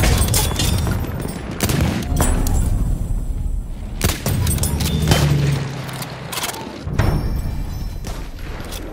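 Machine gun fire in the Battlefield 1 video game, rapid bursts cracking out amid dense battlefield booms and noise, with repeated sharp transients over a constant loud rumble and no clear talk.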